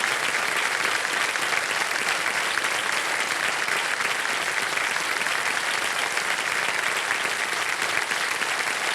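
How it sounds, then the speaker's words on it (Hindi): A studio audience on the Hindi TV quiz show Kaun Banega Crorepati gives sustained, thick applause for the children, a uniform roar of clapping held at constant loudness throughout with no voices over it. "तालियां बज जाएं सब बच्चों के लिए।"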